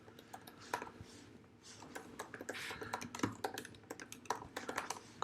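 Credit card digits being entered on a computer keyboard, quick irregular keystroke clicks in bursts, close and fairly quiet, with no talking.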